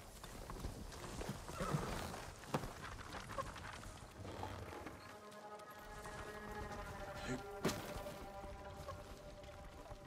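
Horses galloping in the video game Ghost of Tsushima, with a quiet, steady clip-clop of hooves and an occasional whinny mixed with background music and faint voices.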